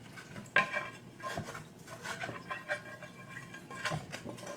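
Broth deglazes a pan for a Thanksgiving shepherd's pie filling, loosening browned bits from the bottom with steady scraping and stirring of a utensil against metal. A soft sizzle runs underneath, continuous and close.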